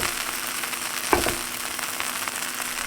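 A Philly cheesesteak grilled cheese sandwich, topped with cheese, sizzles steadily in a pan with a soft continuous crackle, a brief louder clatter partway through, and no talking.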